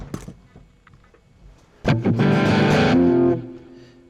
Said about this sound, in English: I'm getting a little bit of distortion.